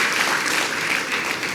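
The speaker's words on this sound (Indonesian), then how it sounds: "Beri tepuk tangan buat Tuhan Yesus Kristus" A church congregation at a joint Christmas worship service claps steadily, a dense wash of applause from many hands that holds even and fairly loud throughout with no talking over it.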